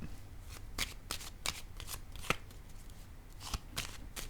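Tarot cards are handled and a card is laid down on a table, giving a quiet run of soft papery snaps and taps with steady background hiss.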